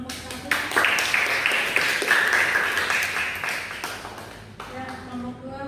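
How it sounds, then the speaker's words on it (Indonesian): A classroom full of students claps for a presenting group in a fiqih lesson, a dense burst of applause that swells and then tapers off, with a voice speaking near the end. "Tepuk tangan untuk kelompok 1"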